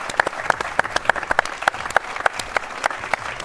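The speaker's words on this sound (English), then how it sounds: "give yourselves a round of applause for coming out." Audience applause at a live cooking event, sharp individual claps from a modest crowd ringing out in an uneven rhythm, close and fairly loud.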